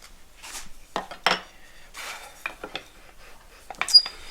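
A small woodworking clamp with a screw and pads is handled and adjusted at a jewelry box workbench, making sparse metallic clicks, rattles and scrapes in short separate bursts.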